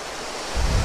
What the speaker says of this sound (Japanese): すごい滝だらけで、こんな滝あったと思わなかった。